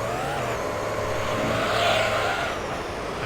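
A Mazda race car in Gran Turismo 3 holds a steady, loud engine drone for the whole stretch, swelling slightly midway as it passes through a professional GT race.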